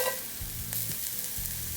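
An egg and chapathi mixture with spices sautés in a pan with soft continuous sizzling, broken by a few close scraping stirs of a spatula, and no one speaking.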